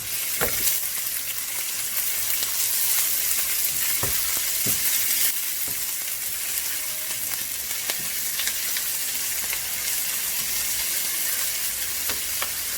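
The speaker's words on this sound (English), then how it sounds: "Then we're gonna add some onion, so roughly cut onion." Roughly cut onions frying in a pan for a beans masala, a steady loud sizzle throughout with occasional sharp scrapes and taps of the stirring utensil; no talking.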